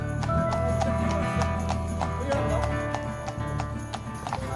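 Horses at Appleby Horse Fair, a gathering of travellers: a steady run of clip-clopping hooves on a hard road amid crowd noise and a sustained tonal background, with murmured voices throughout.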